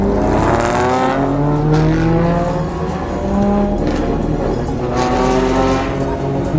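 A loud car engine roars and revs continuously, rising and falling in pitch as it drives close by.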